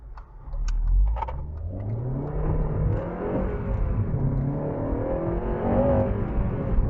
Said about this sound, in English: A bit of wheel spin there.